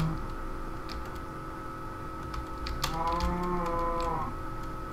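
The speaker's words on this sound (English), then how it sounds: "this episode, I'm going to start a cow farm, or attempt to." Cows in a Minecraft survival-world cow farm give a drawn-out moo in the middle, heard alone over a steady background hum with faint clicks, moderately loud and close.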